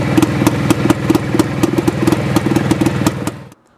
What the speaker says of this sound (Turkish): Bu motor babamın, 1972 model, orijinal, ilk sahibi